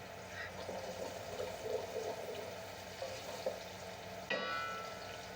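Chopped onions fry in a pan with a faint, steady sizzle, a few soft stirring knocks, and one sharper clatter near the end, all quiet and close.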